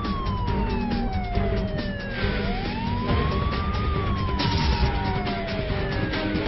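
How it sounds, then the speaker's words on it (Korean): An ambulance siren wails with rising and falling tones over steady road traffic noise, loud and close, overlapping a second distant siren, as the ambulance arrives at a university hospital. "약 10분 후 인근 대학병원에 도착한 구급차"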